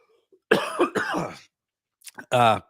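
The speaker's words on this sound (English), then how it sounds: "I'm coughing." A few quick, harsh coughs from a man with a cold, close to the mic, two short bursts followed by a pause and then another rough cough with a throaty edge.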